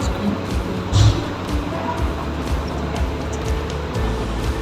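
A vehicle drives in a video game, a steady engine rumble with road noise that swells briefly and then holds constant.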